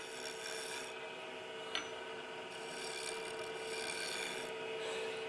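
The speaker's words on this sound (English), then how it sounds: "So I'm just going to do a little, almost a shear scrape." A wood-turning gouge shear-scraping a spinning workpiece on a lathe during a turning demonstration makes a steady, close, continuous rasping hiss that swells slightly and carries one brief sharp tick partway through.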